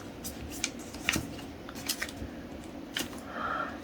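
Paper crinkles and rustles as folded triangles of origami paper are opened out while making a rabbit, with light crisp crackles and soft scrapes close by.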